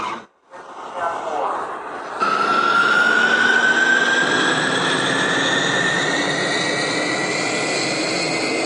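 An A-4 jet on an aircraft carrier deck in a flight video game: after a short lull the engine roar jumps up and holds loud and steady with a rising whine on top, close and dominating.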